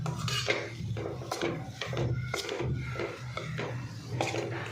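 A spoon scrapes and clanks against a metal pot as a sukhadi mixture is stirred over a medium gas flame, repeated rhythmic strokes close by, with no voices.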